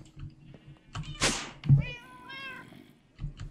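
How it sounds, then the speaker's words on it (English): Cats in the Minecraft video game meow over a low background hum, with one loud meow standing out from fainter cries before and after. "Those cats are freaking annoying."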